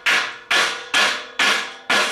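A rubber hammer taps hard plastic plugs into the frame of a Gardener's Supply 3-tier Sunlite grow rack, five firm, evenly spaced knocks close up, each with a short decaying ring, and no talk.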